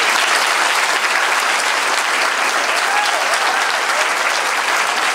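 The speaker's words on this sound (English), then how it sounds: "mostly a round of applause" A large audience applauds after a talk on climate and austerity, a dense, even wash of clapping that holds steady and loud throughout, with no voices over it.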